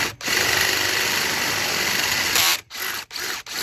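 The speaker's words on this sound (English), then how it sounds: "Any drill will do." A power drill widening an existing hole, a loud continuous whine lasting over two seconds, then cutting out and restarting in two shorter bursts, close up with no talking.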